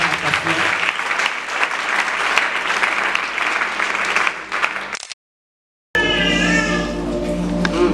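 Church congregation at a Sunday school closing service bursting into sustained applause, dense clapping and crowd noise for about five seconds, then a sudden silence followed by other room sounds.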